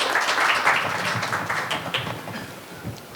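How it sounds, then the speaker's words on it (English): Applause from an audience at a panel discussion on business sustainability, a steady patter of many hands clapping close by that thins out toward the end, with a final clap or two. "Can we have some claps?"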